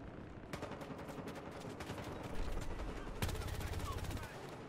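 Rapid automatic gunfire in Battlefield Hardline, fairly faint and distant-sounding bursts of machine-gun fire, thickening into a heavier sustained barrage midway, with a low rumble underneath.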